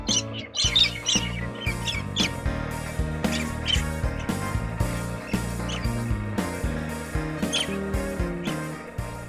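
A galah, the pink and grey cockatoo, gives repeated harsh screeching calls and chattering squawks, loud and close, over a dense backdrop of other birds.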